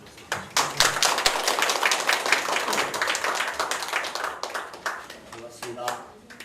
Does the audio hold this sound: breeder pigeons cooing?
no